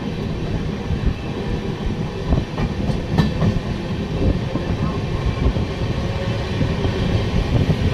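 The Narayanadri super-fast train runs on rails with a steady loud rumble and rhythmic clickety-clack of the wheels heard from on board. Faint background voices can be picked out now and then.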